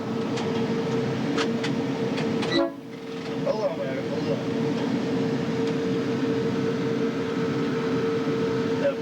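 A subway train rumbles and hums steadily as it pulls into a station on a run from Largo to Addison Road, a sustained tone over the noise, while someone talks over it nearby.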